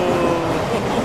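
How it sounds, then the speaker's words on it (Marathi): A passenger train on an Indian railway rolls past with a loud, steady rumble and rail noise, heard close and sustained for about a second without voices. "पटापट ट्रेन धावतात बघा"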